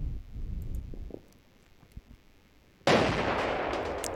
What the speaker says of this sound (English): it looks like some sort of perhaps half-track or some armoured vehicle, appears to have set off or detonated one of the mines on the main road into Wiltz